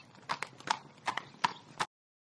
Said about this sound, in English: The donkey carries grapes.